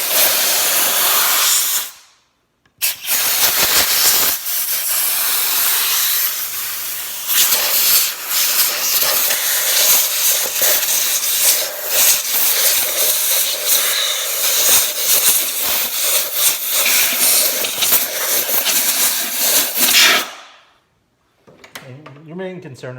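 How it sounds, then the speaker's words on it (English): A compressed air blower hisses loudly in long continuous bursts while cleaning out the valve cover of a 1997 Saturn SC2 coupe, starting and stopping sharply, close to the listener. "I just took an air blower and cleaned them out real good"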